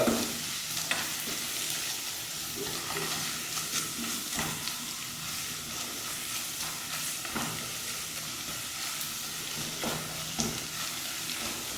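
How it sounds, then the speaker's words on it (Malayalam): Onions sizzle steadily in a pan while being stirred with pepper and coriander powder for a fish milk curry, a continuous frying hiss broken by periodic scraping strokes, close and alone without talking. "നമ്മുടെ കുരുമുളക് കൂടി ചേർത്ത് പിന്നെ നമ്മൾ മാറ്റി വെച്ച രണ്ടര ടീസ്പൂൺ മല്ലി മല്ലിപ്പൊടി ചേർത്ത് ഒന്നും കൂടി അങ്ങോട്ട് മിക്സ് ചെയ്യുക"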